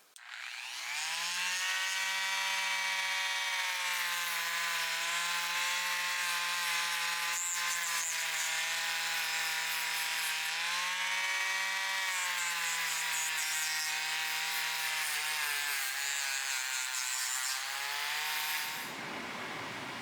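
A 400 grit disc on a rotary tool sands a pair of vintage Boker short chain needle nose pliers, giving a steady, loud, high-pitched grinding whine that holds for nearly the whole stretch before cutting off near the end.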